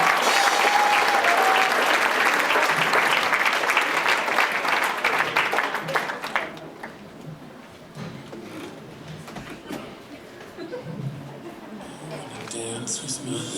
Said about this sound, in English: give a big round of applause to Young at Heart